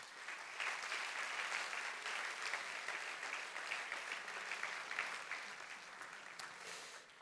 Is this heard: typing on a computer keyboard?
no